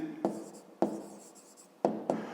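Pen or chalk strokes as an answer is written on a math exercise, several short scratchy marks in irregular bursts, close and quiet with no talking.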